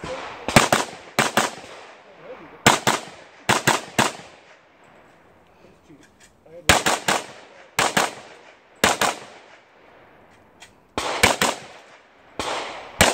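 A shooter fires at a 3-gun competition, sharp loud gunshots in quick pairs and small bursts separated by short pauses, echoing over an open outdoor range with no talking.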